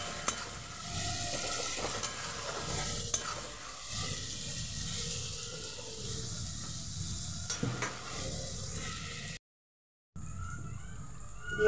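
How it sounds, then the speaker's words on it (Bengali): A spice paste with turmeric and a splash of water sautés in a pan for a mutton and potato curry: a quiet, continuous sizzle with occasional scraping stirs and a brief dropout near the end. "মশলাটাকে একটু কষাবো।"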